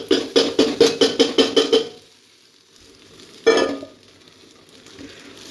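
Rice is stirred and fried in a pan for pulao, a brisk run of scraping stirs followed by a low sizzle and one more scrape, close and clear with no talking.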